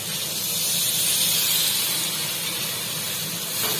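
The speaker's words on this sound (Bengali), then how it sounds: "এবার এটার মধ্যে জল দেওয়া হবে" Water poured into hot fried food in a pan sets off a loud, steady steam hiss lasting several seconds with no talking.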